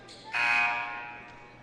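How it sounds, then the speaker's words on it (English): A basketball scoreboard buzzer sounds unexpectedly at the start of the third period of a high school championship game, a single loud, flat electronic blast lasting about half a second, then fading away. "And that was a buzzer that should not have gone off."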